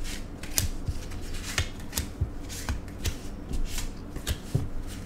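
Tarot cards are dealt and laid out one by one in a quiet room, producing crisp, close snaps and slides at an irregular rhythm, roughly one every half second.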